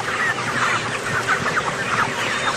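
A flock of chickens in a ionized-water drinking trial keeps up a dense, continuous chorus of clucks and chirps that runs steadily from start to end, with no voices.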